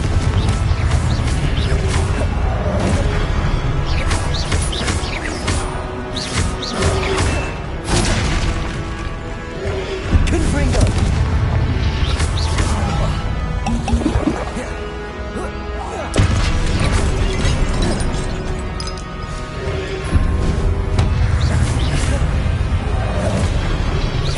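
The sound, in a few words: Confringo spell explosions in the Hogwarts Legacy video game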